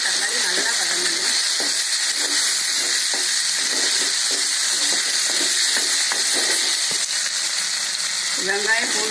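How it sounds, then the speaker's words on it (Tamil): Onion, garlic and tomato sauté in a hot pan for a kuzhambu of raw plantain, with a loud, steady, bright sizzle throughout and soft stirring scrapes scattered through it. "வெங்காயம் பூண்டு தக்காளி நல்லா வதங்கணும்."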